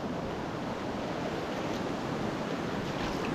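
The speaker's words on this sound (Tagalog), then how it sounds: "Apaw po dito. Ang tubig sobrang lakas." Strong floodwater rushes over a rice field after heavy flooding that destroyed the rice seedlings. It makes a steady, loud, broadband roar that continues unbroken throughout, with no voices.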